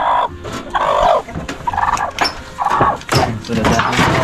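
Loud, repeated clucking and squawking from a native hen nearby, coming in short irregular bursts with brief gaps between calls.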